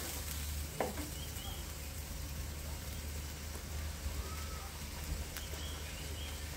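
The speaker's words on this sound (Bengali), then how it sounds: "আর এটা যত পরিমাণে কষাবো তত খেতে অনেক বেশি মজার হবে।" Dried fish (shutki) fries in oil with a steady close sizzle, broken now and then by soft scraping stirs and a few faint clicks, even in level with no talking.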